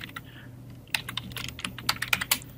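Rapid keystrokes on a computer keyboard while working in design software, irregular bursts of close, crisp clicks with brief pauses, no voices.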